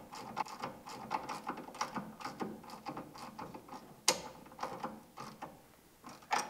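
A ratchet wrench tightens the through bolt on the handle of a Backwater SWOMP Lite glider kit mud motor, giving a quick run of close, fairly quiet mechanical clicks in short bursts with a sharper clack near the end.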